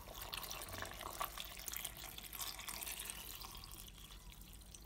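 Water poured into fruit juice ingredients with lemon before blending, a steady splashing pour heard close and continuous, with no voices.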